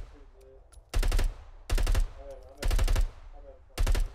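Bursts of automatic rifle fire in the Arma 3 military game, four loud rattling volleys of a few rounds each with short pauses between, under a player's occasional talk and game ambience.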